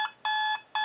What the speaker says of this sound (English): The stupid alarm clock.